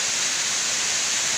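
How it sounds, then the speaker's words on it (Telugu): Waterfall on Venuthala Kona hill, water pouring from a rocky ledge in a dense, even hiss, steady and close with no voices. "పైన ఉన్న వాటర్ ఫాల్ అనమాట"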